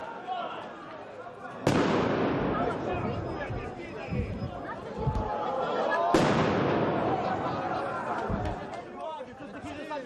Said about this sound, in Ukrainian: Молодики у масках закидали кордон міліції петардами.